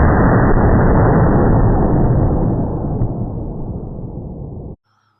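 A Remington 12-gauge shotgun firing a 7/8-ounce slug on an outdoor range: a loud, sustained roar of blast that fades slowly over several seconds and then cuts off abruptly.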